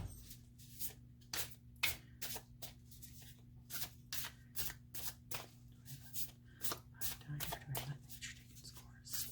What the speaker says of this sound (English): A cascade shuffle.